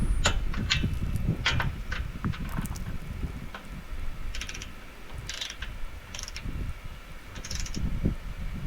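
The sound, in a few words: torque wrench clicking on solar panel connectors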